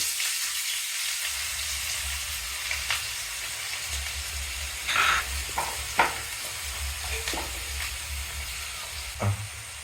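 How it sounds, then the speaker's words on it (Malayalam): Chopped onions frying in hot oil for a masala, a steady broadband sizzle with a few sharp spatters and stirring knocks near the middle and end, no voices. "എണ്ണ ചൂടായി ഈ കട്ട് ചെയ്ത് വെച്ച സവാള മുറിച്ച് ഇടുന്നുണ്ട്"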